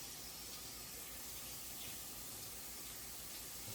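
Mushrooms being washed under a running kitchen tap, a steady close splashing stream of water into a sink that continues without a break and with no talk.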